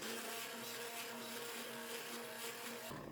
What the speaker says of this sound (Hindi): इसको जो हैंड ब्लेंडर है उसकी मदद से अच्छी तरह से बिल्कुल फाइन कर लूँगी, पेस्ट सा बना लेंगे इसका